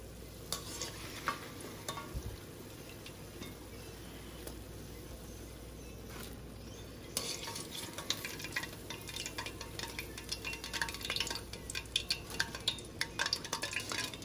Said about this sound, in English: Now I'm going to repeat the process, frying and pouring it in the warm water until the batter is finished.